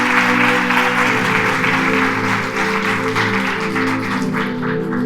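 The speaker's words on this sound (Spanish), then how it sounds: "Si lo crees, denle un fuerte aplauso" A church congregation breaks into loud applause over sustained background music, the clapping dense and steady throughout before thinning slightly at the end.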